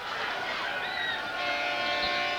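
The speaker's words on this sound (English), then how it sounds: "You hear the horn." A horn sounds at the end of the third quarter at a rainy 1995 high school football game between Parkland and Central Catholic, a steady, blaring tone carried over diffuse crowd and outdoor noise.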